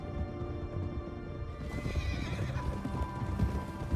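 Hooves clip-clopping at a gallop with a horse neighing and whinnying in the Red Dead Redemption 2 video game, a steady, close, busy rhythm of hoofbeats that grows louder after the first couple of seconds.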